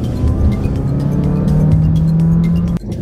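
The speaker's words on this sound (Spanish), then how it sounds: "aceleramos a fondo." A Jeep Renegade Longitude T270 accelerates at full throttle while overtaking, a loud, steady engine roar from inside the cabin with a slowly rising pitch that drops off sharply near the end.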